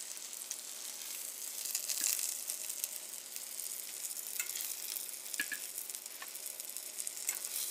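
Eggplant fries in plenty of oil in a pan, a bright, steady sizzle with crackles and occasional sharp pops and stirring scrapes, close and continuous throughout.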